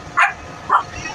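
Two short barks from a dog, spaced about half a second apart, heard amid the background commotion of a house fire in a Tondo, Manila neighborhood.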